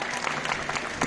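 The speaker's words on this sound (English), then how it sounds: "how about one last round of applause" Brief burst of audience applause at an outdoor street stunt performance, a dense patter of clapping hands from a nearby crowd.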